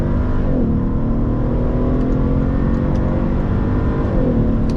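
A 2012 Mercedes SL500 rated at 435 hp pulls hard on a motorway in a steady, loud engine drone with a rising tone and road roar, running unbroken from start to end.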